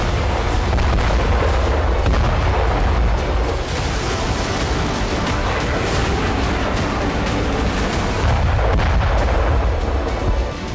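Artillery fire and bombs at a NATO war exercise make a continuous, loud roar of heavy booms and blasts that overlap with no clear gaps between them.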